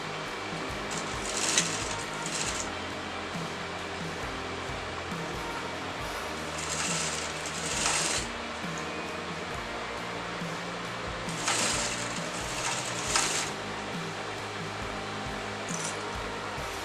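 A sewing machine stitches button loops onto fabric in several short bursts of whirring, each a second or two long, separated by quieter pauses.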